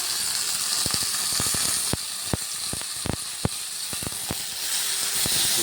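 Tomatoes fry in sunflower or palm oil in a pan, with a steady loud sizzle and hiss broken by crackling pops and the scrape of stirring.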